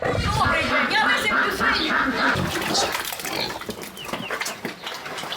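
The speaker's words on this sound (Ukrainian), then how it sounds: "Що у вас і поросята є?" Pigs, both piglets and a large one, grunt and squeal close by in a rural farmyard in the Sumy region, mixed with chatter and other farmyard sounds.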